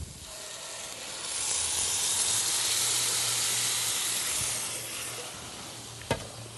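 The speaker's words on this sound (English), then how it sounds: "we're going to take our pureed San Marzano tomatoes and we're going to add that right to the pan." Hot pan hisses and sizzles loudly as pureed San Marzano tomatoes hit it, a broad steady crackle that fades slightly before a sharp clink near the end.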